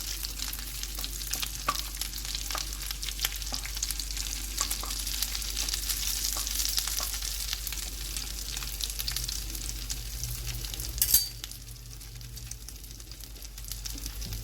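Shami kababs fry in a pan of hot oil with a steady, close sizzle throughout and a few brief clinks and stirring sounds. A sharp clatter comes near the end.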